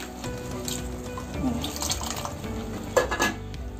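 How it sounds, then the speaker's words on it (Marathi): A mixer jar stained with chutney is rinsed under a running kitchen tap, steady water splashing with light clinks of the jar against the sink, close and fairly quiet. "मिक्सरचं भांड्याचं चटणी लागलेली आहे, तर आपण ते सुद्धा काय करूया, चांगलं धुवून घेऊया."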